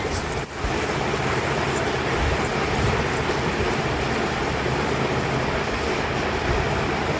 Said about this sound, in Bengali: কয়েকটা তেজপাতা দিয়ে দিব, পাঁচফোড়ন দিব, পেঁয়াজ কুচি দিব, সব দিয়ে ভালো করে নেড়ে দিব।